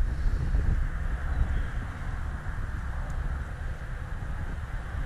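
Strong wind buffets an outdoor microphone on a converted railway-line cycle path in the Maifeld between Koblenz and Mayen, giving a loud, steady low rumble that fills the whole stretch without letup.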